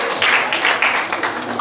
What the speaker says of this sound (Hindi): वजीहा तारिक साहिबा का उनके लिए तालियां